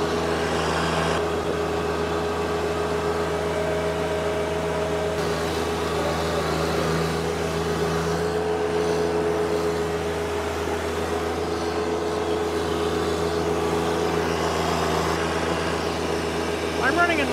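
A John Deere 1025R subcompact tractor engine drones steadily at full revs for the whole stretch, a constant close mechanical hum that never changes pitch.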